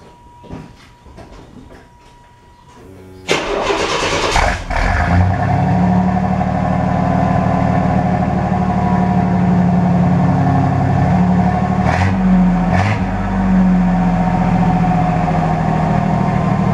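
A car engine runs through a custom homemade exhaust, cranking briefly before catching with a loud burst, then holding a steady, heavy rumble with a couple of sharp blips of revving near the end. No one talks.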